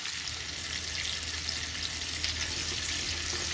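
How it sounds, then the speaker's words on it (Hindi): Eggplant (baingan) pieces fry in a pan with a steady, even sizzle that holds at a constant level throughout, close by and with no voices. "हम बैंगन को अच्छी तरह से फ्राई करेंगे।"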